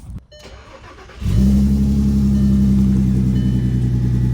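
Quiet background, then a Volkswagen Mk5 R32's engine cranks and catches, settling into a loud, steady idle rumble close by.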